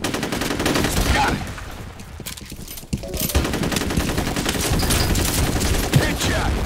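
Rapid automatic gunfire in Counter-Strike during a capture-the-flag round, dense rattling bursts that run nearly continuously, loud and close, with a brief lull partway through.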